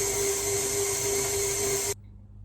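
Electric hand mixer whirring steadily at medium speed as it whisks egg whites for a coconut and lime pavlova, a loud constant motor drone that cuts off abruptly near the end, with no talk.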